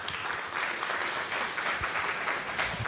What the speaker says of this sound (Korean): 우리 박 고사님 나오실 때 우리 박수로 환영하겠습니다.